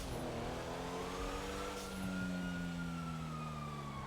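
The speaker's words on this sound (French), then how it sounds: "Sirène." A video game emergency vehicle siren wails steadily with rising and falling tones over a continuous car engine rumble, sustained throughout with no talking.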